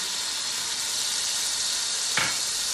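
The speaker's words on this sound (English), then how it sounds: "it's gonna get a sizzle, and we're gonna get a nice golden brown on it" Garlic sizzling in a hot pan as the base for Italian chicken noodle soup, a steady loud frying hiss close up, with a brief clatter of stirring near the end and no voices.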